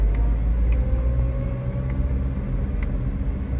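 A car reverses slowly with a steady low engine rumble and a faint whine, heard from inside the cabin, constant and close, with a few light clicks and no talking.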